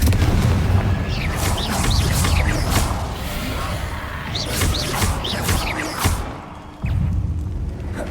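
A Confringo fire spell explodes in the Hogwarts Legacy video game, loud booming blasts and whooshes over a dense rumbling game soundscape, with a brief drop near the end before the noise returns.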